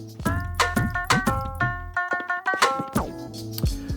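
A short melody of tuned, bell-like tones played from a sampled tone pitched by the platter of a Reloop RP-8000 MK2 turntable, a handful of clear notes in a choppy rhythm, close and alone with no talk.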